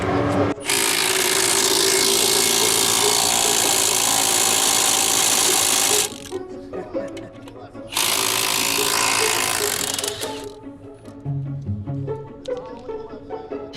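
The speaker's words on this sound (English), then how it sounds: "the stud is spinning, trying to get the lug nut off" A power tool whines loudly in two long bursts while trying to remove a lug nut from a drag racing car whose wheel stud is spinning, with shorter tool noise and voices in the gaps between.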